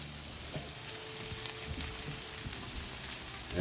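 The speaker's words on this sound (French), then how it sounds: "elles sont en train de cuire gentiment dans le bouillon de volaille" Linguine cooks gently in chicken broth in a pot with chorizo, a soft continuous bubbling and hissing simmer, faint and even throughout, with no one talking.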